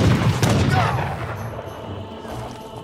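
Cannon fire from British frigates bombarding a colony in the Age of Empires 3 video game, a loud close burst of booming blasts and gunfire that fades into a low rumbling tail.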